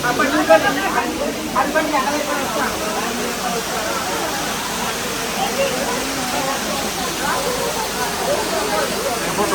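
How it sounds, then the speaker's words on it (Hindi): A waterfall pours near a temple at Tirupati Balaji, a constant, loud rushing hiss of falling water that stays steady throughout while faint voices murmur underneath. "ये झरना है"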